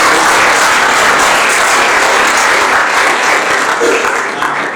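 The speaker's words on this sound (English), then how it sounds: "Let's give him a round of applause" Applause from a gathering at a club annual general meeting, a sustained, loud round of clapping from many people that tapers off slightly toward the end.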